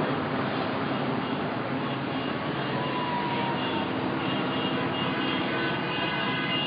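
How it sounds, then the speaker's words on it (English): Helicopters fly overhead above a protest encampment during a No GMO march in Honolulu, a loud, continuous engine drone that holds steady throughout with no voices. "as you can see, helicopters above"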